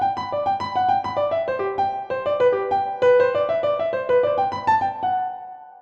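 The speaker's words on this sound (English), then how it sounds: "Play with a finger staccato and you get this sound." A piano plays a lively Bach French Suite jig using finger staccato, each note crisply detached in a quick, bouncing rhythm over a lower line. The sound is solo and close, ending on a held note that decays, with no talking.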